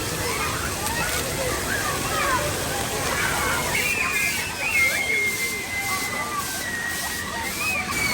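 Water sloshes and splashes continuously at a zoo's outdoor splash grounds, a steady broad wash of spray with distant crowd chatter and children's voices underneath.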